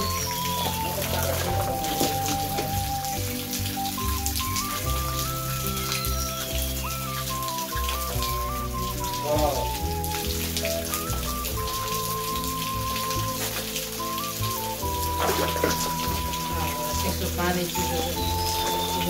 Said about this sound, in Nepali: यो चाहिँ हाम्रो एकदम ठुलो झरना, यहाँ माथिदेखि आएको झरना तपाईँहरू देख्न सक्नुहुन्छ।